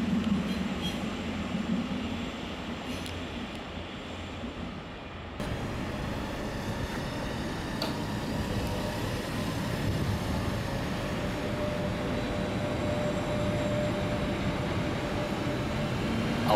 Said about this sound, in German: Ausfahrt der Regionalbahn nach Treuchtlingen.